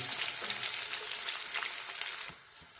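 Sliced onions with green chillies and eggs frying in a pan, a dense continuous sizzle with occasional crackles and soft stirring, close and fairly loud throughout.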